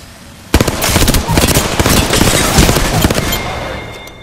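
A grenade in the game Apex Legends goes off with a sudden sharp blast, then a loud crackling burst of debris and gunfire-like bangs rolls on for a few seconds.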